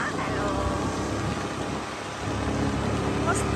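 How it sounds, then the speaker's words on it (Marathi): Heavy monsoon rain on the road from Pune to Lonavala, a dense continuous hiss of rain and road noise heard from inside the moving car. "मस्त पाऊस पडतोय."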